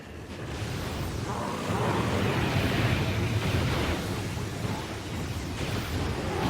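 Dense, continuous rumbling blasts from bombing in the StarCraft 2 co-op mode, a loud sustained wash of explosions with no clear gaps between impacts.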